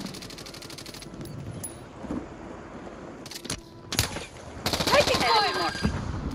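Gunfire in Call of Duty Warzone on Rebirth Island, scattered distant shots and sharp cracks building to a dense rapid burst near the end, over a low game ambience.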